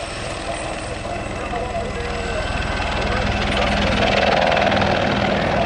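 A military aircraft flying at the 2019 Southport Air Show, a loud, steady engine and rotor drone that builds gradually while a commentator talks over it.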